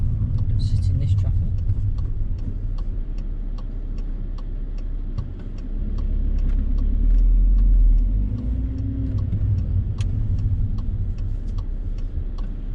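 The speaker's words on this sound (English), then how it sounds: "I am going to now go sit in this traffic." Road traffic rumbles as a low, steady drone with a passing swell, while a rapid ticking, like an indicator, repeats over it.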